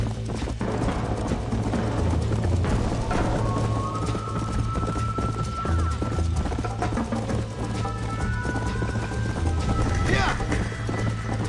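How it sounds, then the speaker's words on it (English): In the Western video game Red Dead Redemption, a horse gallops with continuous, even hoofbeats for several seconds, joined by occasional whinnies and snorts, while a voice speaks briefly over the steady clatter. "You're gonna wear that horse out!"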